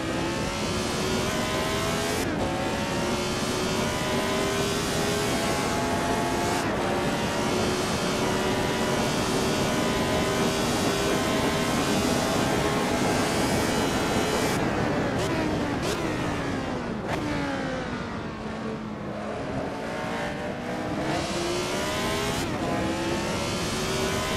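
Lotus 72 Formula One car racing in Assetto Corsa, its engine screaming at high revs through rising upshifts, then dropping through downshifts and braking for a corner before pulling hard again. The engine is loud and close, with a voice faintly beneath it.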